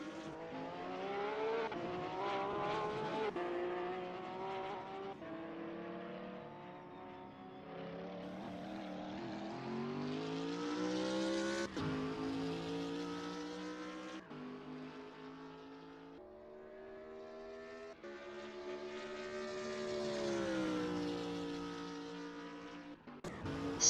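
A BMW Z4 GT3 race car in a racing video game at Monza, its engine droning steadily with rising and falling pitch through gear changes and corners, a continuous close mechanical whine with no talk.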